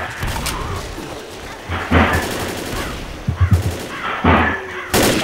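Gunfire in the zombie shooter game Left 4 Dead, several short bursts and single shots spread unevenly across the moment, with players talking in between.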